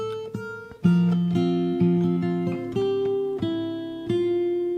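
A fingerstyle acoustic guitar plays the closing bars of the chorus of a song, with plucked single notes and bass notes ringing out at an unhurried pace, close and clean, with no talking.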